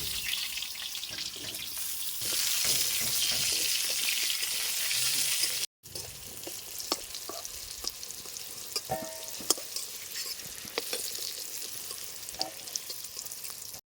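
Pointed gourd pieces frying in a pan, heard as a steady close sizzle with stirring, followed after a brief cut by quieter crackling and scattered clinks, with no talking.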